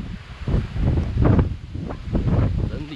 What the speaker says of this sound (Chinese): 风很大，啊，我帽子。